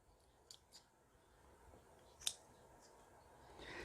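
Small scissors snipping fine roots of a chrysanthemum bonsai, a few faint, quiet clicks spaced out, with one sharper snip standing out, and no talking.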